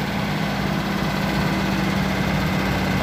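A Mercedes truck's OM366A turbo intercooler diesel idles steadily, a constant low rumbling drone with no variation.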